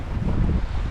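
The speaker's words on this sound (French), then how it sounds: "le vent est monté d'un coup à 17-18 nœuds" Strong wind buffeting the microphone aboard a sailboat, a loud continuous roar and rush in one brief close gust.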